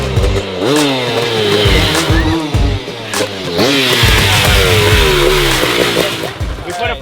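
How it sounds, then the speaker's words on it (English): A 500cc two-stroke dirt bike engine, swapped into a friend's bike, revs loudly and close by in repeated rising and falling bursts, its raspy buzz running nearly continuously under brief voices. "We put a 500 two-stroke dirt bike motor in it."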